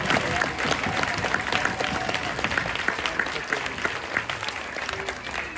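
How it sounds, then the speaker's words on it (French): A cabaret audience applauds the team at a live show, with loud continuous clapping and some crowd voices mixed in throughout. "Vous pouvez les applaudir bien fort, ils font un travail de fou."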